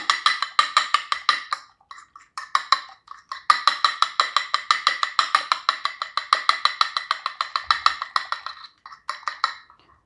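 Rapid, steady clinking of a fork whisking one egg in a flat plate, a fast rhythmic tapping that runs almost continuously with a couple of brief pauses.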